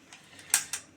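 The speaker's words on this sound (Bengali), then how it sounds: "খুলবো ঢাকনাটা" The metal lid comes off a pot of mutton curry in a home kitchen with two quick, sharp metallic clinks close by, a faint tap before them and quiet in between.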